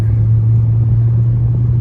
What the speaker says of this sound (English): This thing is a supercharged V8